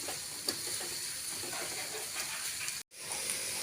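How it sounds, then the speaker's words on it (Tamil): Onions and slit green chillies sautéing in a pan, a steady close sizzle and hiss with occasional stirring scrapes, briefly cutting out near the end. "வெங்காயத்தில் நல்லா வதக்கி விட்டுக்கலாம்"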